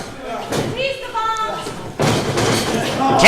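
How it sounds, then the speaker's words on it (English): A pro wrestling strike to the face lands with a sharp, loud thud amid an excited arena, with commentators talking throughout. "Oh, right to the face."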